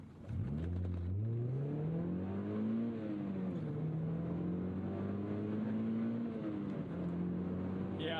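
A Mazda Miata with electro-hydraulic steering accelerating hard on a rainy day, its engine note climbing steadily through the revs in a long continuous pull with a brief dip at a gear change, loud and close throughout.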